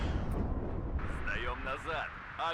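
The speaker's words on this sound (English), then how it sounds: "this artillery has actually been fantastic" Artillery barrages in the WARNO real-time strategy game rumble as a low, sustained roar of distant explosions, with someone talking over the second half.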